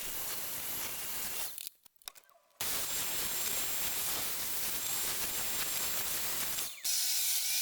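A domino joiner cuts double mortise slots into the sides of wooden table legs for a cross brace on a trestle table, a steady loud whirring cut that stops briefly near the middle and then resumes.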